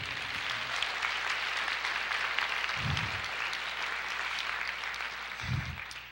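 A church congregation claps continuously in a dense, sustained burst of applause, loud and even, with a couple of low thumps beneath it.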